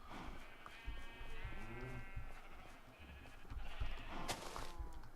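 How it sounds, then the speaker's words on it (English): Minecraft sheep bleat repeatedly in a video game, several wavering bleats spread across the stretch at moderate volume over quiet background. "Get in there, stupid sheep."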